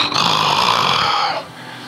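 A preacher imitates snoring with his voice: one loud, drawn-out rasping inhalation snore, close and alone, fading abruptly to quiet.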